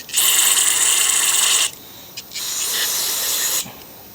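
Carb cleaner sprays in two strong hissing bursts of about a second and a half each onto a Craftsman mower carburettor, close and loud, with a short gap between them.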